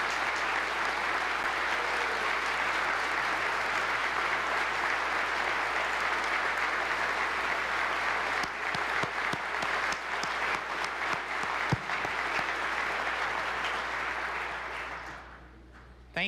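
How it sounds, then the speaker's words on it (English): Sustained applause from a large audience at the 2014 State of the State Address, steady and dense for most of the clip with a few sharper claps standing out, then fading away near the end. "Let's give them a round of applause"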